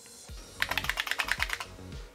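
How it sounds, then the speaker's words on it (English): Keys are pressed on a computer keyboard with a PS/2 connector: a quick run of about a dozen close, crisp plastic clicks after a couple of softer taps, in a quiet room. "I would expect something to happen when I press F1"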